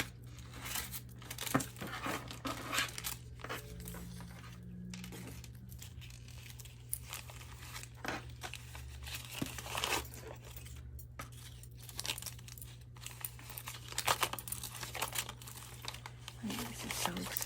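Crinkly paper envelopes being handled and unstuffed, a steady close-up rustle and crumple with occasional tearing, running continuously over a low constant hum.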